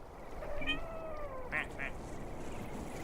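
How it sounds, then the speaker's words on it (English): A loud duck in the game The Lonesome Guild quacks: a couple of drawn-out, wavering nasal calls followed by two short, sharp honks over a hissy background. "That's the loud duck."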